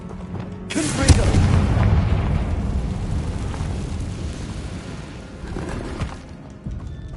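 A Confringo blasting spell explodes in Hogwarts Legacy near an old abandoned cave: one loud, close boom bursts out and then rolls into a long, rumbling roar that slowly fades.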